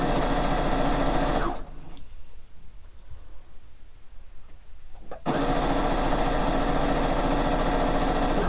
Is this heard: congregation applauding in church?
no